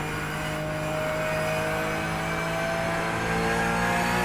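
A Porsche race car engine screams at Interlagos in a racing simulator, a continuous loud high-revving whine with steady harmonic tones that climbs gradually, with no talking.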